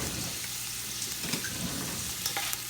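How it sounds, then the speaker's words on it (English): A large onion sautes in virgin coconut oil for a gluten-free, garlic-free chili, giving a steady, soft sizzle with a few faint stirring clicks throughout. "I'm going to be sauteing that in the oil"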